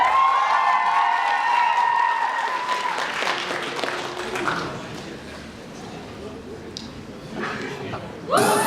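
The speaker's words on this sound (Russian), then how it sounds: "Ваши аплодисменты." A university KVN comedy-league semifinal audience breaks into loud applause that swells then gradually thins out, with a few stray claps and a final burst at the end.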